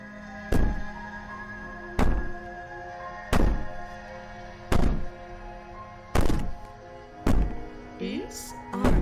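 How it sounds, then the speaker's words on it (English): Heavy fists bang on a door in the horror video game Slay the Princess, seven loud, evenly spaced thuds about every 1.4 seconds over a low droning hum. "Bang on the door all you want."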